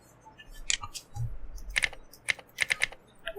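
Computer keyboard typing in short bursts: a few scattered key clicks followed by a quick run of taps, close and crisp in a quiet room.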